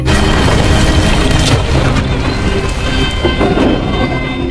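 A building collapses during heavy rain, making a loud, sustained rumbling roar with a broad hiss that runs unbroken from start to finish.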